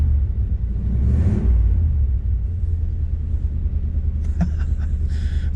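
Steady low idle from a Ford flathead car fitted with a new welded exhaust and muffler, a close, throaty rumble that carries on evenly, with a brief swell early and some clinking noises near the end.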